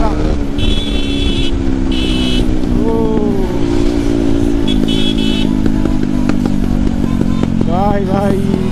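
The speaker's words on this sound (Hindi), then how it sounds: "भाई आपकी बाइक का साउंड आ रहा है।" An Apache motorcycle rumbles loudly through traffic, its engine drone shifting pitch with throttle changes, while horns and other vehicles sound nearby and a rider talks over it.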